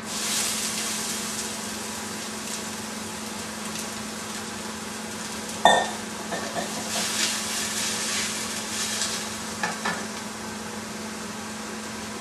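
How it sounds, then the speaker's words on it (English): Onions hit hot oil for a marinara sauce and sizzle steadily at moderate volume, with a sharp clatter near the middle and a few small knocks afterward, no speech. "It's hot oil. We're ready for the onions."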